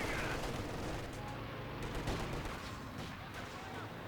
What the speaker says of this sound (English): Mass Panzerwerfer coming down, almost kills the conscript.